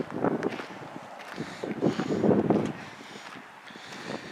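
Gusty wind buffets the microphone at an outdoor flea market in Spirit Lake, in uneven rumbling bursts, rising and falling without any speech.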